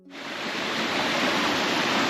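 Gushing stream water on a stormy walk in Wellington, a dense, steady broadband rush that swells in within the first fraction of a second and stays loud and close with no talking.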